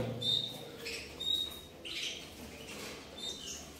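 A young male bird with yellow podang colouring gives short, high, thin chirps at irregular intervals, fairly faint against a low background hum.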